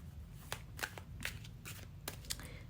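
Tarot cards being shuffled by hand, a series of crisp riffling snaps and flicks in uneven bursts, close up and moderately quiet, with no one talking.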